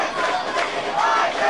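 A high school football cheering section yells and cheers in a loud, continuous crowd roar during a game, with no single voice standing out.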